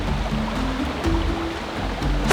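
Rushing water from a waterfall reached on a jungle hike, a steady broadband roar that stays even and continuous, fairly close, with no voices.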